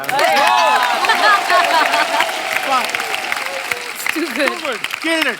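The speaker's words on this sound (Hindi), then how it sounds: "यार एक बार ताली बजा दो इसके लिए यार" A studio audience on a comedy show claps steadily while voices shout, cheer and talk loudly over the applause throughout.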